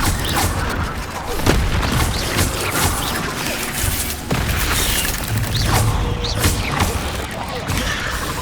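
Incendio fire spells cast in Hogwarts Legacy, with repeated booming, crashing bursts over a constant rumbling combat backdrop, sharp impacts spaced every second or so, loud and sustained.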